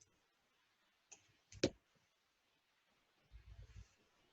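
A single sharp mouse click as the submit video button is pressed in Flipgrid, with a couple of faint clicks just before and a soft low rumble of handling noise afterward.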